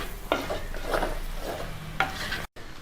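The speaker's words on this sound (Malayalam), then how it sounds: "നമുക്കിത് ഒന്നും കൂടി ഒന്ന് ഫ്രൈ ആക്കി എടുക്കണം." Magic chicken being stir-fried dry in a pan, a close sizzle broken by a few scraping spatula strokes, ending in a brief cut to silence; no talking.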